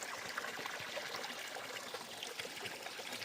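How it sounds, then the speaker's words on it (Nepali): Spring water trickles from a spout on the Mundum trail in Nepal, a soft continuous babbling stream, faint and steady with no voices. "चिमलहरूको बिचबाट पलाएको पानी रहेछ यही माथितिर"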